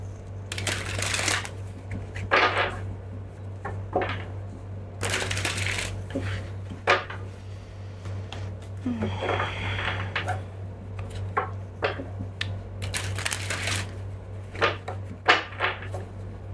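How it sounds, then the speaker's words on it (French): Tarot cards shuffled and laid down one after another, giving sharp intermittent snaps and soft slides over a steady low hum in a quiet room. "Je vais poser des cartes."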